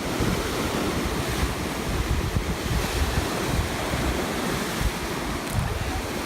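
Blustery Atlantic Ocean surf rolls in with continuous crashing waves and gusting wind buffeting the microphone, a loud, broad roar throughout.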